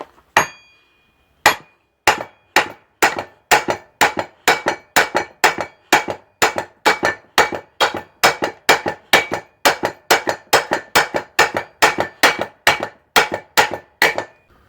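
Sharp metal hammer blows strike the yoke end of a Ford Territory driveshaft, dozens of loud close hits in a fast, fairly even rhythm after a couple of spaced opening strikes.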